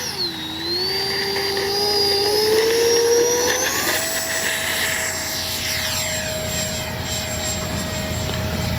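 Arrows F-86 64mm electric ducted-fan RC jet flying overhead, a steady loud whine that bends in pitch as it passes, then holds a level tone, heard alone without talk.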